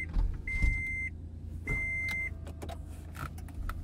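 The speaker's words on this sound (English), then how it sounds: "I just wanted to roll up the window so we weren't getting so much outside noise" Two short electric whirs come from a car's power window rolling up, each lasting about half a second with a brief pause between them, heard close over a low road and engine rumble.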